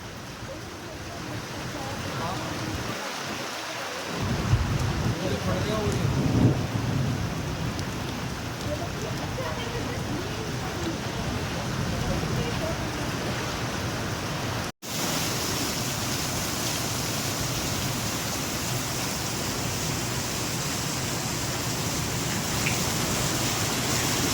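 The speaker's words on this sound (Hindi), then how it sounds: "यहाँ पर बारिश बहुत ज़्यादा हो रही है" Heavy rain pours steadily near Patnitop in the hills, a dense, loud hiss on surfaces that stays constant, with a short louder burst near the start and a brief dropout midway.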